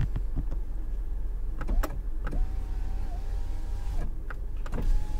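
An electric power window on a Skoda Octavia 2FL glides upward with a smooth, even motor whine lasting about two seconds, amid clicks and faint car background.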